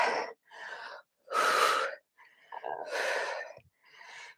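Heavy breathing during a no-jumping full-body workout with hand weights and resistance bands, a series of strong huffing exhales and gasps in uneven bursts, close and fairly loud, with no talking.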